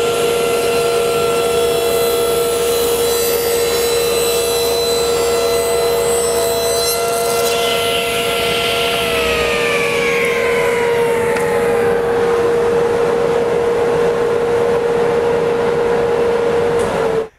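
A table saw blade spins steadily, then cuts a wood workpiece held in a Micro Jig Microdial tapering jig in a shop. The loud whine holds, dips in pitch under load midway through, and runs on with no talk.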